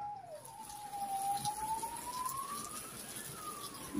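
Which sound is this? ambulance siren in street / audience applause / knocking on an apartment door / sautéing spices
ambulance siren in street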